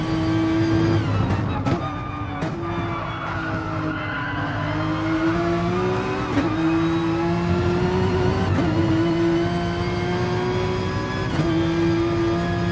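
Porsche RSR race car on the Kyoto circuit in Gran Turismo Sport, engine droning at a steady high pitch that rises and dips through gear changes, with tyre squeal and a few sharp clicks over the top.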